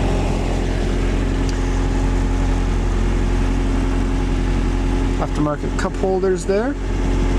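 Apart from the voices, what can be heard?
Toyota Sprinter Trueno AE86 engine idling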